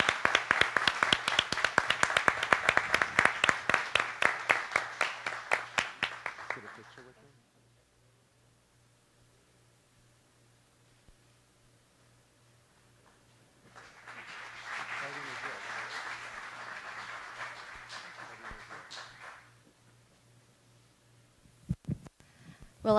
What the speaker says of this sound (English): Can we please, big round of applause for Dr. Terry Nichols and Dr. Catherine Nich